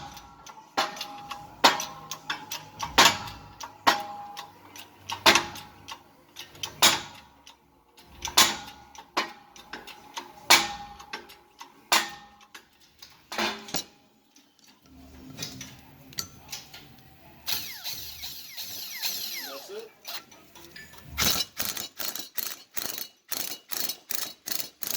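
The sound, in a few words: pressing new bearing and spindle into Mazda RX7 hub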